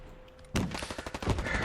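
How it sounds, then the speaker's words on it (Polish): In the video game Hell Let Loose, a burst of rapid gunfire erupts after a brief quiet moment, loud, sharp cracks in quick succession like rifle fire in a battle, including M1 Garand shots. "Może to był celny strzał z Garanda."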